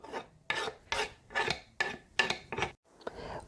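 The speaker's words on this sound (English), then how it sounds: "So I place the grater over a cutting board, holding the grater by hand and push the lemon away from the rough side of the grater" A lemon is pushed across the rough side of a hand grater held over a cutting board, producing seven or eight distinct rasping strokes in a steady rhythm, close and fairly quiet, with no talk.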